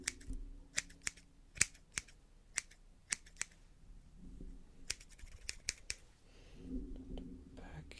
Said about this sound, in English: Let's change the scissor and work with this side here.